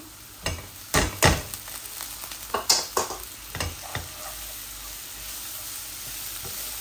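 Dried kachki fish is stir-fried with chilli, spices and vegetables such as bottle gourd peel and cauliflower, a steady sizzle broken by a run of sharp spatula scrapes and clacks against the pan, near and alone.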